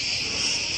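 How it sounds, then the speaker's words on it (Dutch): Crickets chirping loudly on a summer day in Greece, a dense, steady, high-pitched trill that fills the air close by with no break and no voices. "Die krekels zijn echt niet normaal. Ze maken echt belachelijk veel geluid."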